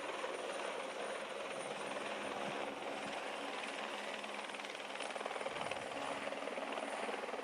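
A helicopter's steady, loud rotor roar and engine drone over a Tour de France mountain stage, continuous and unchanging throughout, with no voices.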